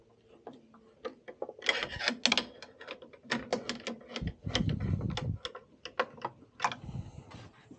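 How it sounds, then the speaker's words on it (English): Screws are tightened on a Culligan water softener, giving close, quiet scraping, rubbing and ticking sounds in uneven short bursts, with no talking. "Now you can tighten the two bottom screws here."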